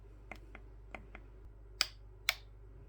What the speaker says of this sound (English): you're going to hear 2 clicks